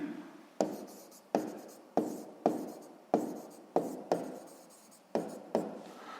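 A pen scratches across paper in about nine repeated strokes, each starting with a sharp tap and fading out, close and clear, while a sixth-grade maths exercise is being written out.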